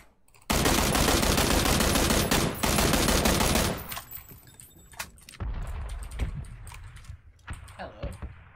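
Sustained automatic gunfire from a rifle in the PUBG battle royale game, a loud dense burst lasting about three seconds, followed by scattered quieter single shots and clicks.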